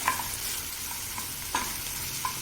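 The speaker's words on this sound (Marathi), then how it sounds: "आता ही भेंडी चांगली परतत आली बिलकुल पण चिकट झालेलं नाही आहे" Okra (bhindi) sautés in a pan with a soft, even sizzle, broken by a few sharp stirring clicks spaced through the short stretch, close and without voices.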